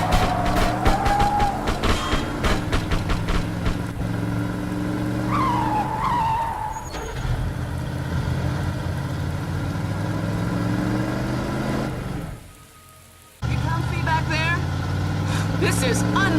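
Car driven in The Suffering: Ties that Bind, with a steady engine drone and several tire squeals and skids, one long screech midway, briefly cutting out near the end before resuming; a voice talks over parts of it.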